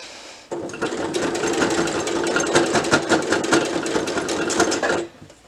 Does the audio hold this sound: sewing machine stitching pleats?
yes